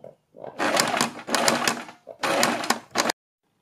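Stitching a neck design on a suit, a sewing machine runs in four short, loud, close bursts separated by brief pauses.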